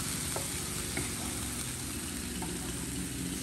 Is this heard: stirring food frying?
yes